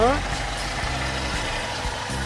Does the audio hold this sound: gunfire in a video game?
no